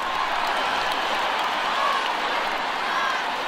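A large concert crowd applauds and cheers ahead of an operatic performance, a dense, steady wash of clapping and voices filling the space with no break.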